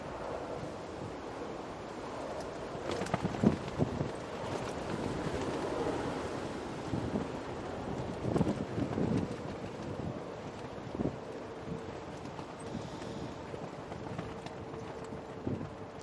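Strong crosswind buffeting the microphone at Manchester Airport during Storm Amy, a continuous rushing roar with irregular gusty thumps, no voices.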